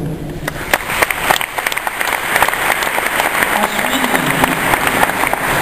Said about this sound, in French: on peut déjà les applaudir et les remercier.